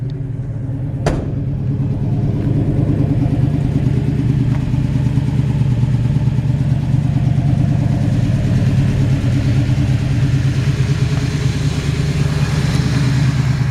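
A 1964 Chevrolet C-10 pickup truck's V8-style exhaust idles steadily and loud, a deep throaty burble throughout with a brief click near the start.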